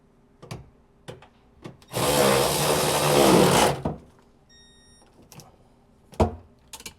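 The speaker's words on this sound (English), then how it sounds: "I'm going to tighten my motor mounts to the hull." A power tool runs in one steady burst of about two seconds, tightening the motor mounts down to a boat hull, with scattered clicks and handling knocks before and after.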